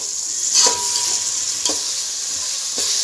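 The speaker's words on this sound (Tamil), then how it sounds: "தக்காளி வதங்கட்டும்." Tomatoes sautéing in a pan after ginger and garlic, for a mutton stuffed brinjal kuruma: a steady close sizzle with a few brief stirring scrapes, no talk.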